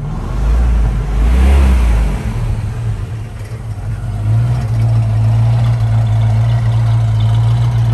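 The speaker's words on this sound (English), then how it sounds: "Great sound, nice rumble. Give it a little gas." A 1966 Ford Mustang engine rumbles loud and close, given a brief rev that swells and settles back into a deep, steady idle.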